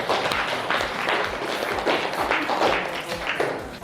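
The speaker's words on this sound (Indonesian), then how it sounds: "Beri tepuk tangan." Classroom applause for a presenting student group during a teaching performance assessment, a loose patter of hands clapping with some thumps and taps, fairly close and continuous, little talk.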